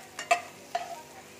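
Garlic and green chili hit a hot frying pan, giving two or three short, close stirring scrapes with a light sizzle underneath, and no voices.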